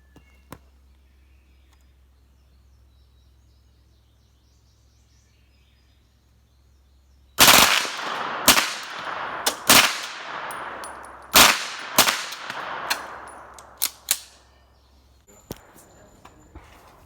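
A gun bump firing with the trigger held down lets off a rapid, irregular string of loud sharp cracks with ringing tails outdoors, preceded by near silence and trailing off into a few scattered pops.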